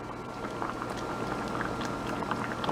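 Rice soup with chicken wings simmers at a slow boil in a pot, giving a steady, close bubbling and popping that continues without a break, with no talking.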